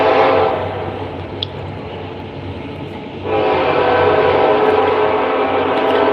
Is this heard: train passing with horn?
yes